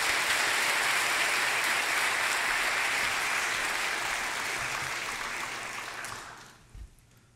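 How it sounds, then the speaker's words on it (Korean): Warm applause welcomes a pastor to the stage at a Korean church service, a dense, steady clapping from a full congregation that holds for about six seconds before fading quickly into near silence. "뜨거운 박수로 환영하겠습니다."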